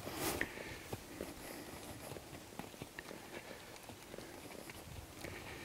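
A horse's hooves step on the ground during groundwork on a lead, faint irregular thuds and scuffs spread over several seconds against a quiet outdoor background.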